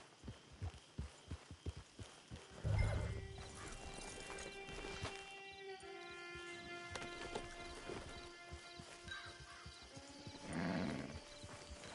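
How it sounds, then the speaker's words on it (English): Hooves of a horse clip-clop in a steady walking rhythm, fairly quiet, with a couple of louder snorting or whinnying bursts from the animal. "It's your horse."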